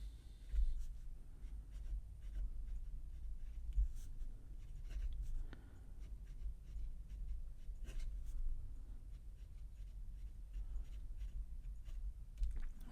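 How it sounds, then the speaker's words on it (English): A Gravitas Entry fountain pen with a fine flex nib writing on paper with light pressure, a close, continuous soft scratching broken by small ticks of strokes, steady and quiet with no talk. "I'm going to write with just normal light pressure."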